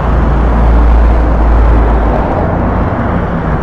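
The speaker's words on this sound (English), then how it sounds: "You guys, please excuse the traffic noise." Heavy road traffic roars past at close range, a loud, continuous broadband wash of passing cars that fades slightly toward the end.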